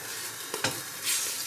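Oil sizzles and a spoon stirs in a pot being readied for tripe in a home Italian kitchen, a steady frying hiss broken by two quick scraping strokes and a brief louder burst of sizzle near the end.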